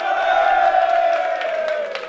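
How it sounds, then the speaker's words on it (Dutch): A crowd at a football tournament prize ceremony cheering and whooping in one loud, sustained burst of voices lasting the whole moment. "groot applaus voor Veno 3."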